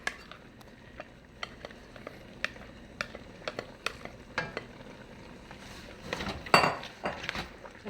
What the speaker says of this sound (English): Now I'm stirring it together.